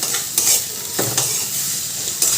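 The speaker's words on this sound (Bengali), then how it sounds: "এবার পটলগুলো ভালো করে ভাজতে হবে" Thinly sliced pointed gourd fries in oil with a close, continuous sizzle, while a spatula scrapes and stirs through it in a few short strokes; no one speaks.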